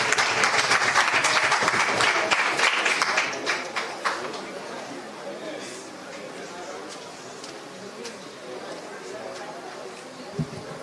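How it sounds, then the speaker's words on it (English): Loud applause and crowd chatter for a speaker at a political party town hall meeting in a primary school, fading after about three seconds into a murmuring room. "Ladies and gentlemen, a round of applause for Champagne"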